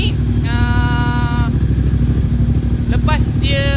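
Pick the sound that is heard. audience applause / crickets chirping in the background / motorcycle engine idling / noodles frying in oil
motorcycle engine idling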